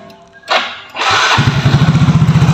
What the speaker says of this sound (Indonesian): Mesin hidup aman, jos.